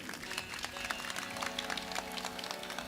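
Audience at a live performance claps in a brief, dense burst of applause, heard faintly under sustained musical tones.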